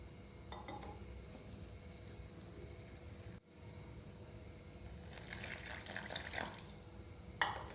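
Patisapta batter being mixed in a bowl as milk is added little by little, a soft continuous wet swishing with light clinks against the bowl, fairly quiet and without speech.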